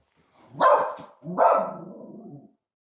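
Two loud barks from a nearby dog, the second drawn out slightly longer, with quiet in between and no talking.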